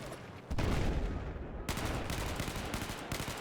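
Sustained automatic gunfire in the shooter game Battlefield 4, loud and dense, with rapid bursts overlapping one another and a sharper volley partway through.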